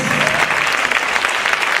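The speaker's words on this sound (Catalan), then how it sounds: "No deixeu d'aplaudir, un fort aplaudiment per la Marina Núñez," Loud, dense applause from a crowd, many hands clapping at once in a continuous close burst.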